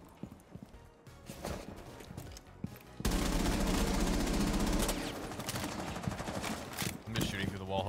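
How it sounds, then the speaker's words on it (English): Gunfire shooting through a wall in a shooter game: light clicks and scattered shots at first, then a loud sustained burst of rapid automatic fire from about three seconds on, with a voice talking in places. "I'm just shooting through the wall, hoping maybe I hit him."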